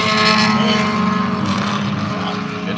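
A Porsche race car engine at full throttle during a race, a loud continuous droning roar that holds steady and eases off slightly toward the end.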